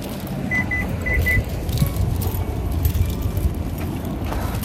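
A car being unlocked and opened in a parking lot after shopping, with a short chirp of the lock and faint jangling keys over steady outdoor traffic rumble and background noise.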